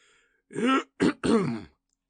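A narrator imitates a donkey's impressive cough, giving three rough throat-clearing bursts, two long with a short one between, close and fairly loud in otherwise quiet surroundings.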